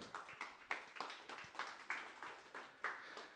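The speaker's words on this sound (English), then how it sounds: "Let's give them a round of applause." Rhythmic clapping for the contest organizers at the Facebook Hacker Cup 2018 event, about ten fairly even claps spaced roughly evenly, close and moderately loud, with no voices over it.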